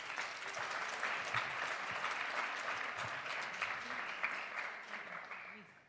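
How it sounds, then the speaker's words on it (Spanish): An audience claps steadily, a dense patter of many hands applauding together that holds for several seconds before tapering off, with faint voices underneath. "vamos a recibir a Catherine con un fuerte aplauso"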